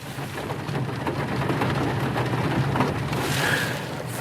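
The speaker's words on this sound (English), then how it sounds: "it's raining pretty good. You might be able to hear it hitting my car." Steady rain patters on a car roof, a dense wash of drops under a low rumble, with no one speaking.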